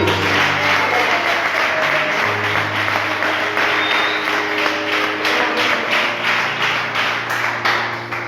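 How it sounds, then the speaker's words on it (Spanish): A church congregation gives loud, continuous applause with rhythmic clapping, steady throughout, over a sustained low hum from the sound system. "¿Cuántos dan un fuerte aplauso a nuestro Dios?"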